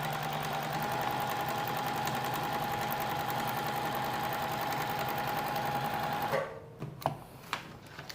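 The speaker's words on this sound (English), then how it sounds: "we're gonna sew along right on this black line" A sewing machine runs steadily, stitching along a marked black line with a continuous close whirring hum for about six seconds before stopping, followed by a few faint handling clicks.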